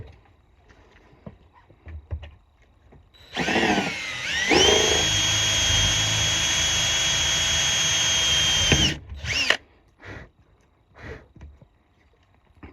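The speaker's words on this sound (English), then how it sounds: "you can go ahead and drill the second 2 holes" A power drill bores holes for Coleman friction hinges with a whining, steady motor drone for several seconds, close and loud, framed by brief clicks and handling noises before and after.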